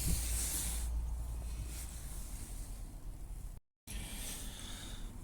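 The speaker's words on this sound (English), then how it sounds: "So the ball and the carb itself has gotten a blast with the compressed air." Compressed air blasts into an AL-KO lawn mower carburetor with a loud, steady hiss, briefly cut off before a second shorter blast.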